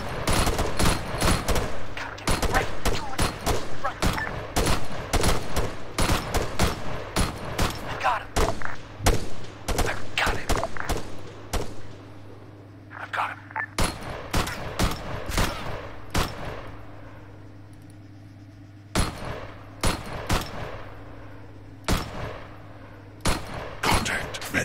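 Rapid bursts of rifle and automatic gunfire in the military shooter ARMA 3 during a town sweep, loud sharp cracks repeating irregularly over a steady low hum.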